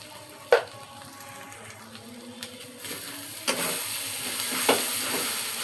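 Spices for beef biryani sautéing in a pan give a steady close sizzle with occasional stirring scrapes and a couple of sharper clinks, growing slightly louder toward the end.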